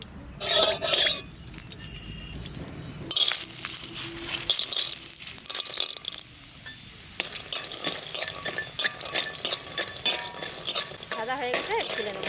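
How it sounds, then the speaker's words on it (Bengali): Lentil nuggets (dal bori) fry in oil in a pan, sizzling under repeated close stirring scrapes and clinks, with a burst of loud rustling at the start. "ডালের বড়ি কটা ভাজবো আগে,"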